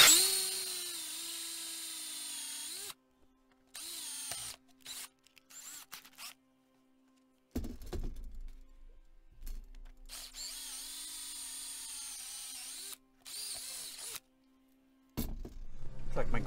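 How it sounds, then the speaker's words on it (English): A power drill turns a one-inch auger bit through an aquaponics pipe, whirring in several separate bursts that start and stop with short pauses between them. "this auger is actually an inch hole, so we'll drill it till it gets all the way through"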